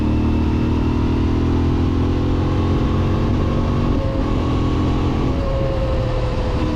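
A Cfmoto 450MT adventure motorcycle riding along village roads, its engine droning loud and steady up close with a continuous mid-pitched hum and rushing wind, no talk over it.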